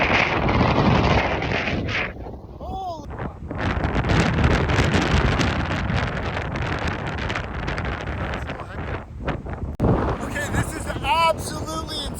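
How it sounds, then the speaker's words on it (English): Strong wind on open water off Vancouver Island roars across the microphone without a break, loud and close. Sea and boat noise sit under the gusts, and brief voices cut through now and then. "the wind has gotten a little bit out of hand for the boys"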